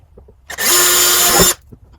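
A power drill whines loudly for about one second drilling a pilot hole, starting and stopping abruptly, with quiet surroundings before and after.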